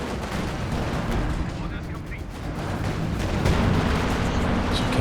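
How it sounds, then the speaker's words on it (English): Katyusha rocket artillery firing in a Company of Heroes 2 battle, a dense rumbling roar of launches and distant blasts layered with game noise throughout, with commentary talk running over it. "Oh, there goes the Katyusha."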